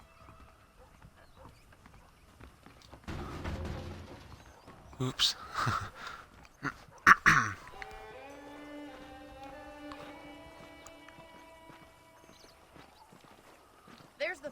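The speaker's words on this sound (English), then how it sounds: "The horses are saddled up over here." Saddled horses in the Red Dead Redemption video game clop along with a few hoof beats and a whinny, set against game dialogue and a sustained tonal score.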